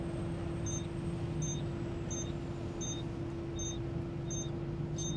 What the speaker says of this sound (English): It's an engine warning alarm.